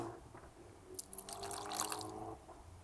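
A little water is poured into a bowl of wheat flour rubbed with butter and an egg yolk for dough, giving a soft, steady trickle and splash for a couple of seconds over low kitchen background noise.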